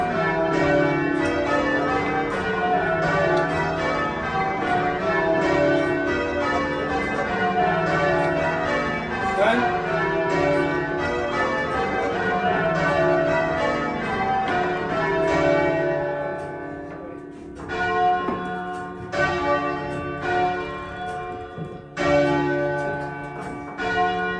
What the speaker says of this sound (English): you hear bells ringing in churches